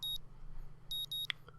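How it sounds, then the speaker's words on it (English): A morning alarm clock in the visual novel Katawa Shoujo beeps in short high double-pulsed bursts, one at the start and two more back to back later, with a faint click and soft tone near the end, over a low steady hum. "My morning alarm goes off"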